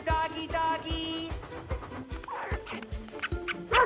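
A cartoon dog barks and whimpers in short, close yips and whines, with several sharp barks in quick succession and some squeaky whimpering between them.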